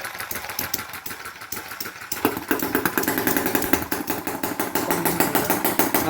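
An engine on a homemade machine putters at idle, then grows louder and steadier after a couple of seconds, chugging in a fast, even rhythm close by with no talking.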